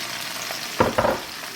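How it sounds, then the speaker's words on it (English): Onions being stirred around in a pot for a beef pot roast, a brief pair of soft scraping, sizzling stirs close by against a quiet background. "Just kind of move them around so that they're in there all around."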